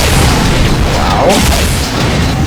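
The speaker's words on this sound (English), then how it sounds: "My rocket collided with the SMD ball." In the video game Unreal, on the multiplayer map DM-Twilight, a rocket strikes a shock ball and sets off a loud, close, booming explosion with a rumbling tail, heard alone without talk.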